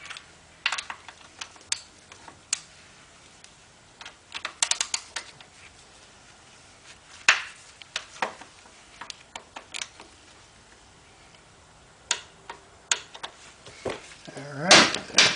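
A torque wrench tightening the transmission drain plug of a BMW K75 motorcycle, fitted with a new crush washer and set to 15 foot-pounds, giving scattered sharp clicks and ratcheting taps, close, with a louder clatter at the end.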